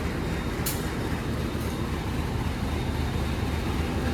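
The Sri Tanjung passenger train from Banyuwangi, hauled by two locomotives, gives a loud, steady rolling rumble throughout, with a brief higher hiss near the start and no voices.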